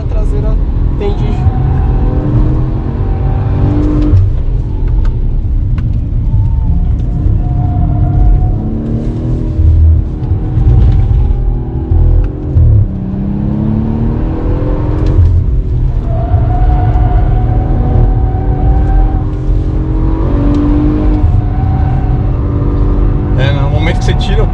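Audi RS4 Avant B9 engine rumbles and revs steadily on the Circuito Panamericano race track, a loud continuous drone heard from inside the car while people talk over it throughout.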